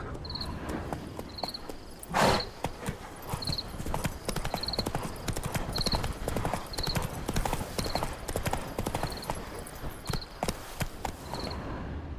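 Hooves of the horse Roach clip-clop at a steady trotting beat in The Witcher 3, close and clear over a faint bed of crickets and insects, with one brief louder burst early on and no talking.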